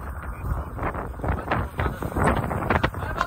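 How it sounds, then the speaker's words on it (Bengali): Strong gusting wind buffets the microphone on Parki Char sea beach in Chattogram, with a rough sea and a ship nearby, the roar rising and falling in uneven bursts. "প্রচন্ড রকমের বাতাস, প্রচন্ড রকমের বাতাস, সমুদ্র বেশ উত্তাল"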